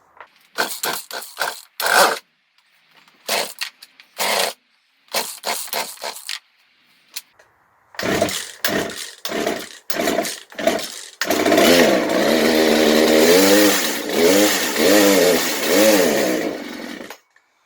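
A repaired chainsaw, started cold, gives several short sputtering pull-start bursts with pauses, then catches and runs loud and close, revving up and down steadily.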